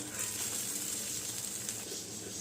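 Soaked poha frying in a pan with salt and turmeric, a steady soft sizzle and hiss held at an even level throughout, close up and with no talking.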